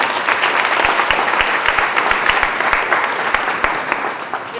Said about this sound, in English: round of applause for my colleagues